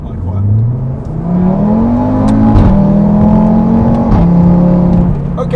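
Audi RS3 with 340 kW engine in dynamic mode: a loud, close engine and exhaust note revving up and holding high, with rising pitch sweeps and a brief gear-change dip, continuous throughout.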